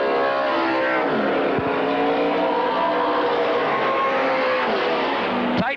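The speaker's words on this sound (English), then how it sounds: "De Jersey's engine absolutely screaming." A speedway race car engine screams at high revs during a 1984 USA versus Australia Grand Nationals race at Lismore Showgrounds, a loud, continuous roar with shifting pitch that drops briefly near the end, with no talk over it.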